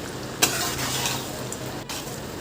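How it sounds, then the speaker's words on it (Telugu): Homemade tomato pickle fried in a pan while being stirred, giving a steady close sizzle with a couple of sharp utensil scrapes and no voices. "పచ్చడి మొత్తం ఇందులో తీసుకుని బాగా ఫ్రై చేసుకోవాలి."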